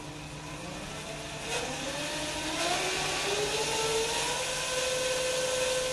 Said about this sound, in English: So the DC motor seems to be working.